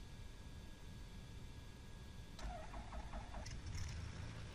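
Aircraft engine starting up in Microsoft Flight Simulator X: a steady whirring hum gives way to a clattering catch and rising mechanical churn, heard faintly on its own with no talking.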